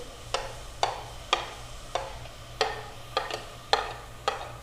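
Mixed vegetables are stirred and tossed in a pan while cooking for white sauce pasta, regular scraping strokes of a spoon against the pan repeating about every half second over a soft background hum.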